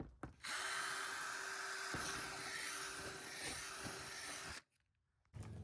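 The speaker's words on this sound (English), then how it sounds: "just going through and drilling out these holes" A power drill runs steadily for about four seconds with a high whining motor, briefly dips in pitch, then stops before starting up again, drilling out holes in resin storage shed parts.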